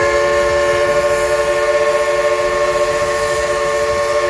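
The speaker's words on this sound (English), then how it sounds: "we caught the last train of the night" Dollywood's train running at night in Pigeon Forge, Tennessee, gives a steady, loud, sustained whistle tone over a continuous rumbling roll of the cars, with no voices.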